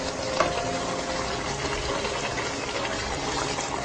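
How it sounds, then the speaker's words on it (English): Water pours steadily into a cooking pot while cheesy potato balls are being made, a continuous rushing, splashing flow with no talk over it. "So I am adding more water to it."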